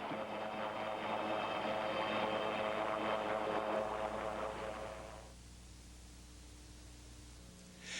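A steady Coast Guard or Air Force aircraft engine drone, fairly loud and broadband, fading noticeably partway through to a quieter hum that swells again at the end.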